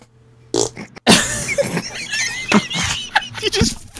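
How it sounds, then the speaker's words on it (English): A fart ripples out after a brief quiet lead-in, followed by people laughing and talking loudly over one another with squealing, excited voices. "You just farted."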